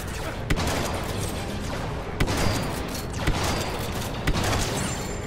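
Four spaced, sharp semi-auto shots ring out in Star Wars Battlefront II team deathmatch, each crisp crack standing out over a busy, noisy battle background.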